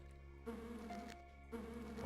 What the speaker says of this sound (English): Why am I hearing bees?